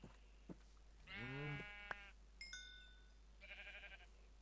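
A single sheep bleats clearly in Minecraft, followed by a couple of short electronic chimes and a faint quavering tone in an otherwise quiet scene.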